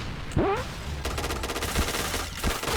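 A new gun in a video game fires in rapid automatic bursts. It opens with a short whooshing sweep, then a dense rattle of shots keeps going steadily to the end.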